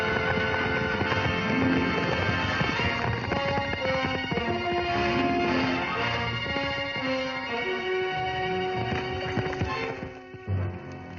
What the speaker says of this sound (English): It looks like Nancy's horse.